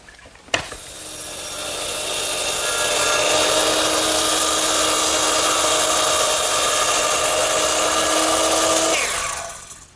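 A power saw cuts across wood for a Shaker step stool, starting with a sharp knock, then a steady loud whine with ringing tones that holds for about eight seconds before winding down.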